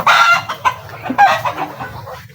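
A group of hungry chickens cluck close by, busy overlapping clucks and squawks filling the short stretch without pause.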